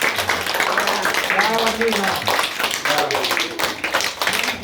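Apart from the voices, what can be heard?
schoolchildren applauding at a museum visit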